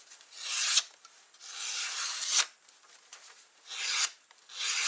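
Handmade Yakut knife shaving wood in repeated scraping strokes, a close rasping sound rising and falling in uneven rhythm with short pauses, no talk.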